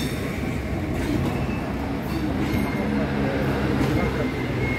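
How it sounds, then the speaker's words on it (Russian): An electric commuter train rumbles loudly and steadily close by in Kraków, its heavy low roar and rattling wheels filling the whole clip as it departs. "Вся электричка уже поехала."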